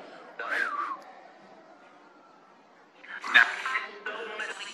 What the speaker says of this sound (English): Did you hear that faint whistle after mine?